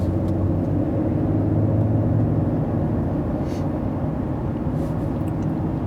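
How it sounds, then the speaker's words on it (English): 2019 Mercedes GLE 450 accelerating on its own under adaptive cruise control on a country road, a steady loud cabin drone of engine and road rumble with no breaks. "Okay, so now it's going to 90 automatically."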